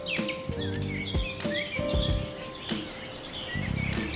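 Several birds chirp and tweet outdoors in the early morning near Rishikesh, in short, overlapping calls, with faint background noise and a few soft knocks in between.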